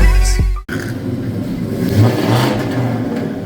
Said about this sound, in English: now you hear that exhaust?